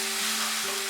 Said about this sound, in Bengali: আদা রসুনটা দিয়েও আমি আরো 2 মিনিট মতো মাঝারি আঁচে এটাকে ফ্রাই করে নেব।